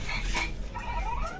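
A battery-powered toy puppy sold in a Bangkok shopping mall gives short, high, squeaky electronic yips and whines, close up, with mall bustle behind.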